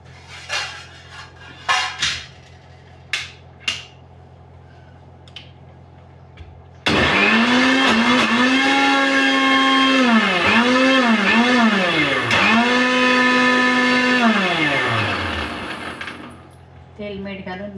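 A kitchen mixer grinder blending bajra millet flour batter starts after a few clinks and runs loud and close for about nine seconds, its pitch dipping and rising in pulses before stopping.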